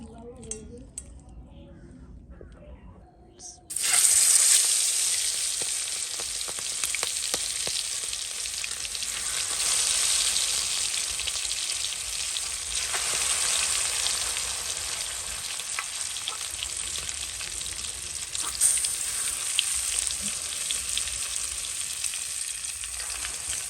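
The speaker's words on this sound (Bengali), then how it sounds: "তেলটা অবস্থা কখনো গরম হয়ে গেছে আচ্ছা এটাকে ভেজে নেব" Food hits hot oil after a quiet start and a loud, steady frying sizzle takes over, carrying on with occasional utensil clinks and stirring as a voice talks now and then underneath.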